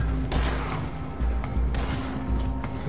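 Gunfire in the Red Dead Redemption 2 western video game, with repeated sharp shots and bursts scattered over a noisy, busy soundscape, loud and close.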